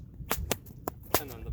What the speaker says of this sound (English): I kind of bring the overhead in first and then bang, bang.